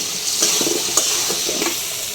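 Lentil fritters stir-fried in a cooked-down spice masala for a dal and egg curry, a soft sizzle with scattered stirring scrapes and light clinks, brief and close, without talk.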